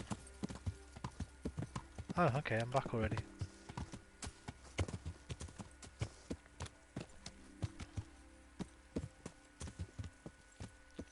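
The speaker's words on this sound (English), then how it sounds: "Horses?" Horse hooves clip-clop in a steady walking rhythm on hard ground in the medieval video game Kingdom Come, fairly quiet, with a brief whinny and a voice speaking over them.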